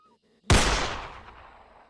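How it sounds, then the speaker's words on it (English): A single loud gunshot cracks out sharply after a brief quiet moment, then decays into a long rolling echo. "and that's when I heard a gunshot."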